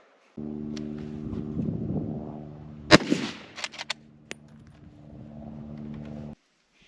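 A single sharp hunting rifle shot cracks out loud and close during outdoor practice, with a short echoing tail, set against a steady low droning hum that runs through most of the clip.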